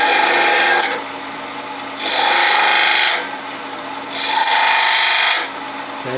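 A texturing tool chatters against a wooden spinning top turning on a lathe at about 1000 to 1200 rpm, producing three loud rasping bursts of roughly a second each, separated by the quieter hum of the spinning lathe.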